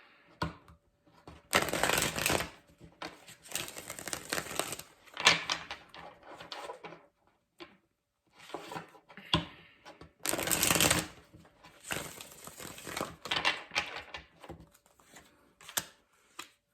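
Tarot cards are shuffled in several distinct riffling bursts, crisp and close, separated by short quiet pauses and soft handling noises.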